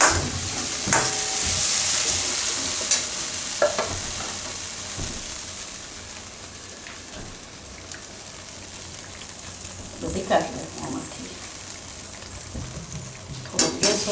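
Chickpea and potato gravy cooks in a pan with a steady wet sizzle and bubbling, plus occasional stirring scrapes and clinks, moderately loud with no talk.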